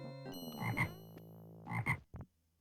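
A frog croaks in the King's Quest video game, two loud, close, drawn-out croaks about a second apart, then a short blip, with nothing else heard.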